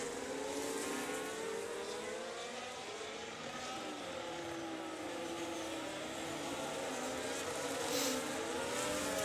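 A race car engine in a racing game climbs a hill into turn 4, holding a steady, droning high-revving note that shifts pitch as it works through the gears and carries on without pause, no voices over it.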